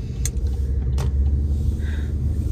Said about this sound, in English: Sorry, I got distracted because that truck almost hit me.